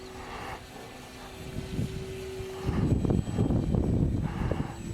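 A propeller plane engine in the Dawn Patrol flight game drones steadily during inverted flight, swelling louder and rougher about halfway through, with no talking.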